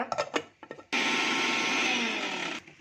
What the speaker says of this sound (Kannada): ಇವೆಲ್ಲ ರುಬ್ಕೊತೀನಿ ಇವಾಗ ನಾನು ಜಾರ್ಗೆ ಹಾಕ್ಕೊಂಡಿದ್ದೀನಿ ನಾನು ರುಬ್ಕೊತೀನಿ ಇವಾಗ